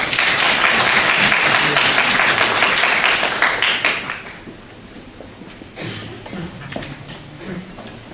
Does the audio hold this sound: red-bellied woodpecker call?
no